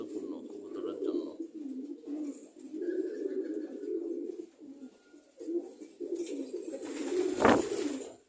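Pet pigeons coo in low, repeated rolling phrases, close and moderately loud, with a brief flutter or burst of noise near the end.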